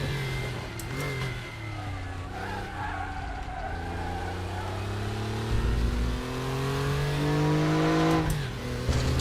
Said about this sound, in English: Yeah, man, it's old Porsche. It's like 70s Porsche. It's like the regional Carrera Cup.